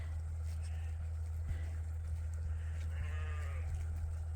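Sheep ewes bleat in a farm alleyway, with one clear wavering bleat near the end over a steady low engine hum.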